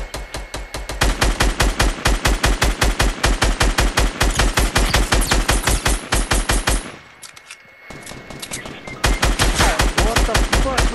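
Rapid automatic gunfire in the Fortnite video game comes in long loud bursts of dense, evenly spaced shots, with a short pause near the end before the firing resumes.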